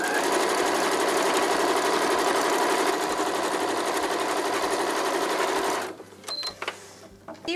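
A sewing machine stitches the first seam while fitting a zipper, with a fast, steady mechanical whir for about six seconds that then stops, leaving faint clicks and handling noises.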